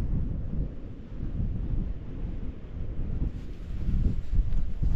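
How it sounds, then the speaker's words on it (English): Wind buffeting the microphone on a cold mountain summit in the Lake District at sunrise, a low rumbling roar that swells and eases without pause, no talk. "I'm sat here just behind a cairn just to get out the wind a little bit because it is fairly breezy"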